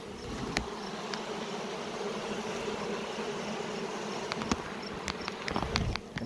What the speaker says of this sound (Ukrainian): Бджоли тікають, трутня лишається.